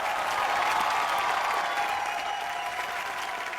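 Audience applause at a live comedy show, a thick continuous roar of many hands clapping that holds at a steady level throughout, with no talk over it.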